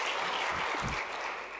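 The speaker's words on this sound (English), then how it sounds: "Please don't refrain to applaud." Soft, distant applause from a conference audience at a climate and health panel, a light steady patter of hands that tapers off slightly toward the end.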